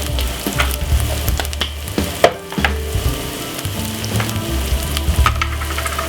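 Prawn curry with seasoning sizzles in a hot pan while being stirred, a close crackling fry broken by uneven scraping strokes and a sharper knock.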